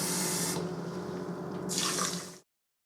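Water poured from glasses into a pot for cooking quinoa, a close, loud splashing pour that briefly eases, surges again and then stops abruptly.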